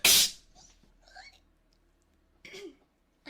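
A single sharp, loud sneeze bursts out at the start, followed by quieter breathy vocal sounds and a few soft murmured words afterward.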